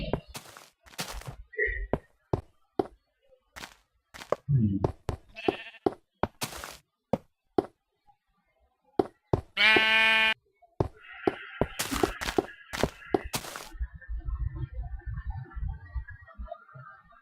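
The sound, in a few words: sheep bleating from a video game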